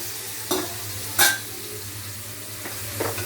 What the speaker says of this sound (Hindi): ये देखिए प्याज डाल रहा हूँ।